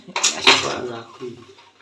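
Metal dishes clatter and scrape close by in a quick burst, with a softer clink trailing off afterward.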